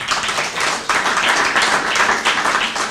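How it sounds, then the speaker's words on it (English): Sustained applause and clapping from an audience at a groundbreaking ceremony, a dense, steady wash of many hands that stays loud and even throughout with no break. "let's give Howard Ways a round of applause"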